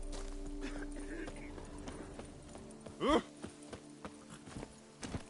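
Horse hooves clip-clopping in The Witcher 3 around Toussaint, a steady light rhythm of hoofbeats at close range under game ambience, with a brief whinny-like call in the middle.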